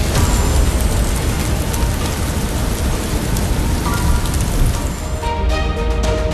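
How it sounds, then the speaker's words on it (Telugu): Steady rain falls throughout, as sleet or a cold snow-laced downpour, a dense continuous hiss with a few soft distant rumbles like thunder, loud and close with no voices. "కొద్దిసేపట్లోనే మంచు వర్షం ప్రారంభమైంది."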